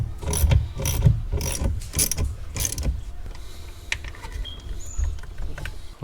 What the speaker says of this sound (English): We'll tighten that 10 mil down